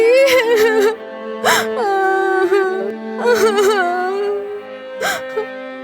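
A girl in an animated Hindi fairy-tale cries in sobbing, wavering wails with sharp gasping breaths between them, loud and close.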